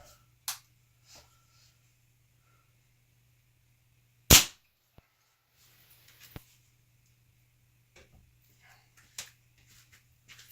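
A Weihrauch HW97KT air rifle fires a single sharp, loud crack, with a few faint clicks and handling noises scattered before and after in an otherwise quiet setting.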